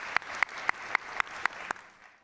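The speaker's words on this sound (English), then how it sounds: "Please give him a round of applause." Several slow, evenly spaced hand claps ring out at a college convocation ceremony honoring a professor, crisp and fairly close, fading out at the end.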